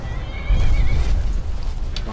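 A horse in the video game Skyrim whinnies with a rising, shaky neigh over low rumbling game sounds, close and fairly loud.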